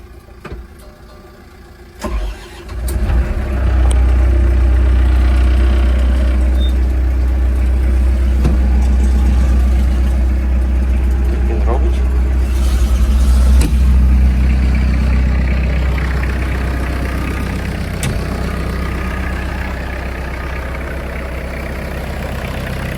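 An ISEKI GEAS-503 Japanese four-cylinder tractor engine cranks briefly, catches at about two seconds and settles into a loud, steady low-pitched idle that runs on to the end, close by and with no talk over it.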